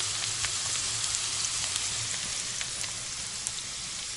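Onion added to a pan and frying, cooked in a dugout shelter: a steady, bright sizzle with faint crackles and pops throughout, close and even, with no talk.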